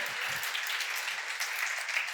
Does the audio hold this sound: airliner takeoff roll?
no